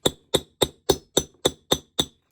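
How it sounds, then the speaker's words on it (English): Eight evenly spaced metallic hammer blows drive a wheel bearing into a vintage motorcycle hub, each a sharp close ringing strike about a third of a second apart, with no talk. "Really careful to only hit the outer side of this bearing. Start driving it home."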